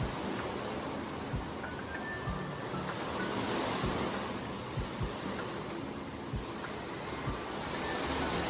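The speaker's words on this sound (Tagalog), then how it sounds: "Grabe yung hangin." Strong super typhoon wind roars steadily and close, broadband and buffeting the microphone, with occasional low thumps and gusts and no voices.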